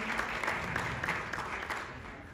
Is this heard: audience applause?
yes